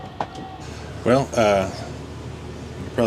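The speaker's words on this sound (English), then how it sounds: "you probably hear the heat running." An air conditioner working as a heater inside a camper runs as a steady, low mechanical hum that fills the background, with a short stretch of voice over it near the middle.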